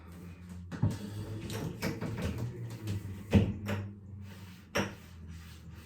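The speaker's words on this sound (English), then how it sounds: "Just going to give it a little strop in." A heavy full-hollow Riga straight razor being stropped, a soft rubbing drag with a few sharper knocks as the blade flips, close and steady with no talking.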